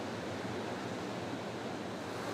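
Waves of the Indian Ocean below the Uluwatu temple cliff in Bali make a steady, even roar of surf, distant and continuous with no separate breaks and no voices.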